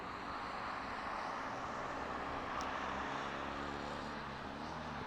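A DHL cargo aircraft at East Midlands airport, a steady broadband engine roar holding level and fairly distant throughout, with faint traffic-like rumble beneath.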